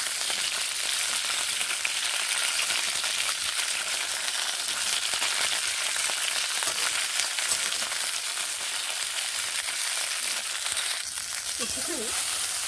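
Flat beans frying in a pan, a dense, steady sizzling hiss held close and loud throughout, with a faint scrape near the end.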